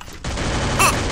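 Gunfire from a UMP submachine gun in the Garena Free Fire video game, a dense loud burst over continuous game noise with a sharper crack near the end.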